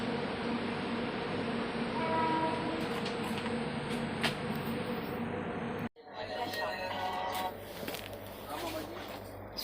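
Train rumble and rattle of wagons as it pulls into New Cooch Behar station, a steady low roar with a sharp break near the middle, followed by squealing and clanking, heard from aboard the train.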